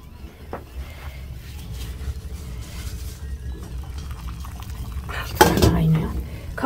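Zucchini kebab simmers in a pan on a stove, giving a steady low bubbling hiss with faint metallic clinks and a brief louder clatter of the pot near the end.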